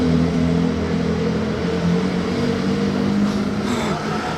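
A Jaguar XJ220 hypercar on a street in Monaco gives off a steady, fairly close engine drone with a low rumble that holds for a few seconds. No one speaks.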